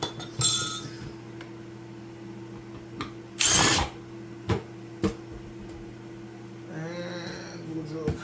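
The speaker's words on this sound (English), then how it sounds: "Drill a couple holes in this bucket" A power drill bores holes through a bucket for a homemade CO2 airlock setup, with a few short, sharp bursts of whining drilling separated by quiet pauses and small clinks.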